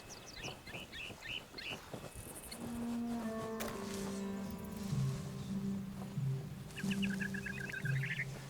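Chickens clucking in a lagoon area in the video game Sea of Thieves, several short bursts of squawks and calls over a low tonal music bed, moderately loud and without talk.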